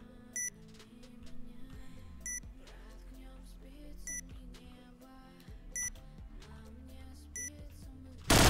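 A planted bomb in Point Blank beeps as short, sharp tones repeating roughly every two seconds over a low droning game background.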